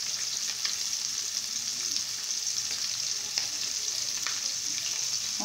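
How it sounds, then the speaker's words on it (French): Fish fries in hot oil, an even, bright sizzling hiss with occasional small pops, steady and close throughout, with no talking. "il faut d'abord chauffer son huile pour faciliter la cuisson, pour que ça puisse cuire rapidement"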